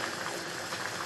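Water boils in a pot with cauliflower, a constant bubbling, rushing hiss, close and fairly quiet, with no voices.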